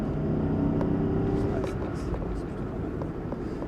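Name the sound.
Rolls-Royce Phantom Coupé engine accelerating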